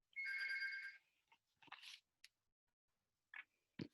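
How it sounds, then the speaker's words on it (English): A doorbell rings once in a quiet room during a poetry reading, a short bright electronic chime, fairly faint and heard alone, followed by a few scattered small knocks and shuffles. "Someone is ringing the doorbell precisely now."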